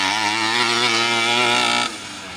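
A 49cc gas-powered RC mega truck engine revs loud and close, a steady high buzzing drone that rises slightly in pitch, then cuts back sharply to a lower idle near the end, with no talking.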